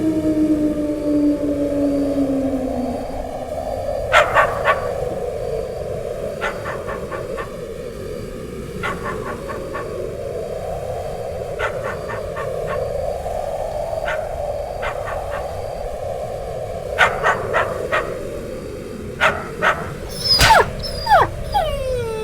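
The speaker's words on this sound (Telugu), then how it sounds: "రోజు రోజుకి ఈ కుక్కల బెడద ఎక్కువైపోతుంది" Dogs bark at night in a village, sharp scattered bursts rising over a steady droning background, some close and loud, others more distant, with no talk.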